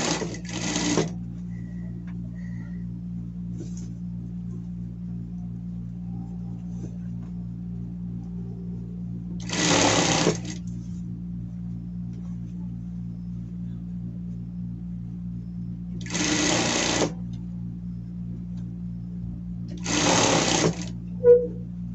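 An electric sewing machine stitches the collar of a denim shirt in four short bursts of rapid whirring, close and clear over a steady low motor hum with quiet pauses between.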